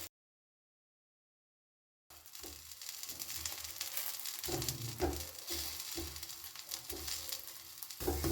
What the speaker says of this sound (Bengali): উল্টে দিয়েছি এবারে এ পিঠেও আমি কিছুটা বাটার দিয়ে দিচ্ছি